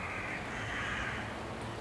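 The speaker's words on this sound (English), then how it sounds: "Hear the birds." Birds cawing outdoors, faint, crow-like calls drifting in from a distance over a quiet, steady background, with no voices present.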